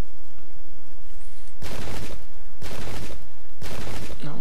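Musket volleys from the video game Pike & Shot boom out three times, loud, spaced about a second apart over a steady background hiss.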